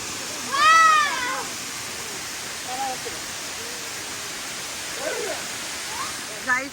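A waterfall rushes in a steady, broad wash of noise, with a loud cat-like meow near the start and fainter cries scattered above the constant roar.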